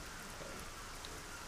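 Rain falling steadily in the video game Arcania Gothic 4, a dense, even patter of drops at moderate volume, continuous from start to end with no voices.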